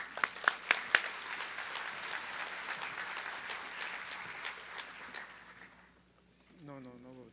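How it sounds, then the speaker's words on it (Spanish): Dense audience applause greets a speaker at a public accounting congress, with sharp claps opening and a steady roar that fades after about six seconds before a voice begins speaking. "lo recibimos con un fuerte aplauso"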